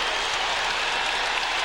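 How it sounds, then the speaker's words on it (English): Crowd of basketball fans in San Antonio applauding in an arena, a steady broad wash of clapping that fills the whole moment without letup. "And the fans in San Antonio applaud that"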